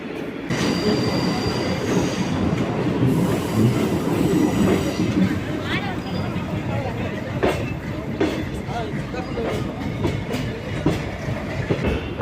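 A metro train rumbles steadily along the rails, heard from inside, with wheel squeals and rhythmic clacking over a constant roar.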